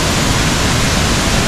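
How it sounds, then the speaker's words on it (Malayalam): Homestay waterfall with water falling hard, a constant dense roar recorded close up, steady and unbroken throughout with no voices. "ഇതാണ് ഇവിടുത്തെ വാട്ടർഫോൾസ്"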